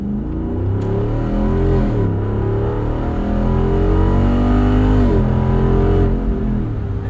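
A Jeep Wrangler 392 V8 rumbles with a deep, loud exhaust note, revving up and easing off in smooth swells while driving, close and steady with no talk over it.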